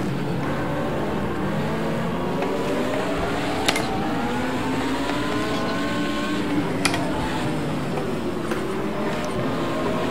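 An Audi 90 IMSA GTO race car in a racing video game, its engine roaring continuously with rising and falling revs as it accelerates and shifts, loud and steady, with a couple of brief sharp clicks.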